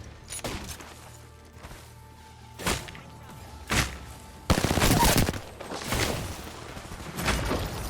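Gunfire erupts in Apex Legends, with several sharp shots spaced a second or so apart and then a dense, loud burst of rapid fire, close and punchy, followed by fainter trailing shots.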